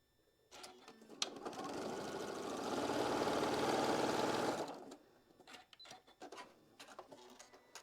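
Stitching a quarter-inch seam on a quilt block, the sewing machine runs in one continuous close whir for roughly four seconds, framed by scattered clicks and handling taps before and after.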